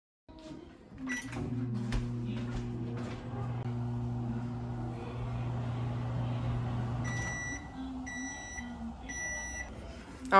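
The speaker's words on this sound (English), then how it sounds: "And then we're just gonna microwave it for 30 seconds to a minute." Microwave oven running with a bowl of soapy water inside, a steady low hum throughout, followed by a short series of high beeps near the end signalling the cycle finishing.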